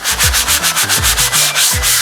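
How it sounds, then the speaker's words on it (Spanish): Sandpaper worked back and forth over a melamine kitchen countertop, a loud, steady rasping in quick regular strokes, about eight passes in two seconds, close up with no voices. "Vamos a echar mano de la lija y vamos a empezar a preparar la superficie. Vamos a ir lijando"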